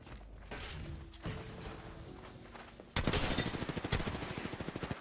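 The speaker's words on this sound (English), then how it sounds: "I'm taking shots." Rapid automatic gunfire from a video game arrives in a loud burst of steady, closely spaced shots in the second half, after a quieter stretch of mechanical clicks and clatter.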